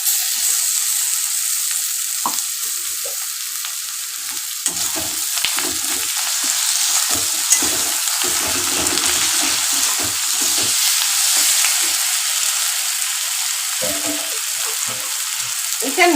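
Ginger-garlic paste hisses loudly and continuously in hot oil in a pan for mango chicken, with occasional soft scraping from stirring under the bright, steady sizzle.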